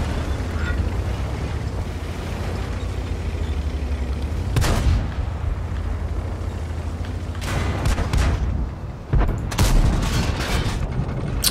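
Big tank gun firing outdoors at an event with a crowd, heard as a few loud, booming blasts with sharp onsets followed by rumbling decay over constant low background noise.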